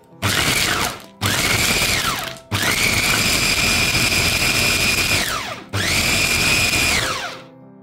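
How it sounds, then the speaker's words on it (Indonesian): A kitchen blender runs in four bursts, grinding onions and shallots with ice cubes, each loud whirring run starting and stopping abruptly with short pauses between, the longest run in the middle. "Oke teman, sekarang kita blender."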